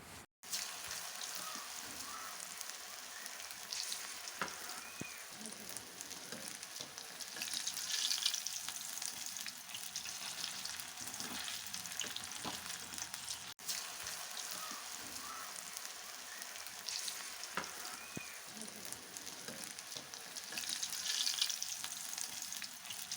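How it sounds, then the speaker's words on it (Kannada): Marinated chicken kebab pieces fry in hot oil, a steady close sizzle with crackling pops and occasional stirring, no talking. "ಆಮೇಲೆ ಎಣ್ಣೆ ಕಾದಿತ ನೋಡಿ ನಿಧಾನಕ್ಕೆ ಒಂದೊಂದೇ ಪೀಸನ್ನು ಬಿಡ್ತಾ ಹಾಕ್ಬೋದು"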